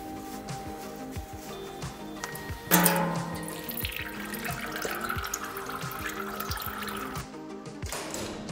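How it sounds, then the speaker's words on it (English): Transmission oil drains from the drain plugs of a Getrag DCT450 automatic gearbox, a steady trickling, dripping stream with a sudden louder splash partway through, continuing evenly before cutting off near the end. "After we have now removed the under tray, we can now drain the oil."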